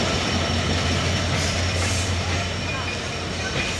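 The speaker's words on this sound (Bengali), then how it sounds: "এই যে অস্থিরভাবে একটা এন্ট্রি নিল।" The Nilsagar Express, hauled by locomotive 6608, enters a station with a loud, close, continuous rumble of wheels and cars, and faint voices in the background.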